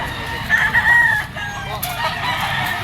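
A yellow-legged Picom stag rooster of Golden Boy bloodline crows once, loud and close, a strained rising call followed by softer clucking and background bird chatter.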